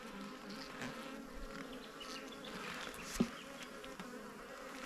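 Honeybees buzz steadily in an opened nine-frame hive, a dense, close drone with an occasional soft knock or clunk from the frames.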